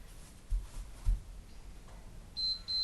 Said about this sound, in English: Waiting for that buzzer.